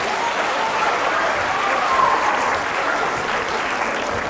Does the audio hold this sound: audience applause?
yes